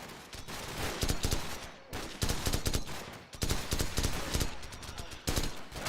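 Rapid automatic gunfire from a Call of Duty video game, loud continuous bursts of shots broken by brief pauses, filling the whole stretch with little else audible.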